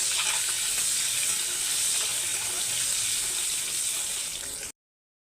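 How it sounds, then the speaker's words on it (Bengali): Peeled boiled eggs sizzle in hot oil in a pan for a Bengali egg and jackfruit curry, a constant bright crackle close by that cuts off abruptly just before the end. "সেদ্ধ ডিমগুলো আমি ভেজে নিচ্ছি"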